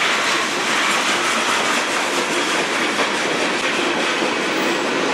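Norfolk Southern freight train number 1084 roars past close by, a steady, loud wash of rolling wheels and rail noise with faint clickety-clack throughout.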